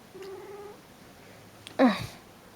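A cat lets out a low drawn call, then a loud close meow with a falling pitch, alone in a quiet room.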